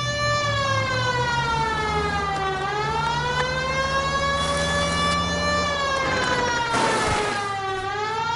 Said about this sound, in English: They don't know to move if the siren's not on.